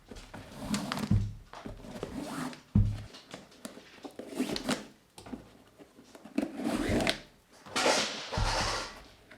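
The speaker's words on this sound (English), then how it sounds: "That is Bruno knocking his dinner all over the floor." A dog named Bruno knocks his food bowl across the floor, a series of sharp thunks, clatters and scrapes coming in irregular bursts over several seconds.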